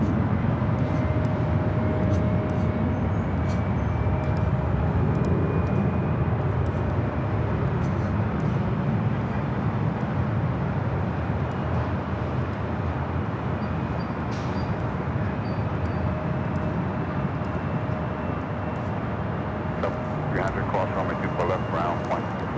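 A heavy Air France 777-300ER jet arriving at Los Angeles LAX gives a steady, loud broadband engine roar that holds for the whole stretch, with a faint high whine running through it.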